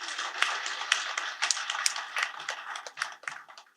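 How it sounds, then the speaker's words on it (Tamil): Scattered hand claps from an audience at a novel launch ceremony, irregular and fairly quiet, thinning out toward the end. "கைதட்டுங்க எல்லாரும்."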